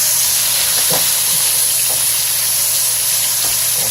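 Floured rabbit pieces, including hind quarters, brown in a hot pan over high heat with a loud continuous sizzling hiss and a few soft clinks or movements of the pieces.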